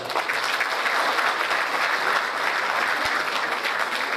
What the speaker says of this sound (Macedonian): охрабриме со еден громогласен аплауз